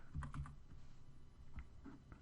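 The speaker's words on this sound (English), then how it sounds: "the right arrow key on my keyboard." Keys on a computer keyboard are pressed in a short quick cluster of close, soft clicks, then a few scattered taps, with no voices.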